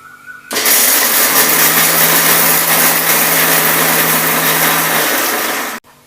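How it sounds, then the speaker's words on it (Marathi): A kitchen mixer grinder grinding masala for an eggplant curry starts up and runs loudly with a steady high-pitched whine for several seconds, then stops abruptly. "आपण आता मिक्सर लावायला वांग्याच्या कालवणासाठी मिक्सर लावतोय"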